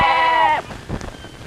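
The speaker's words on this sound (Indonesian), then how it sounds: "Kalau kambing mengembe, tandanya dia setuju untuk dipelihara oleh kita." A goat gives one loud, close, wavering bleat lasting about half a second, then fades into quiet background noise.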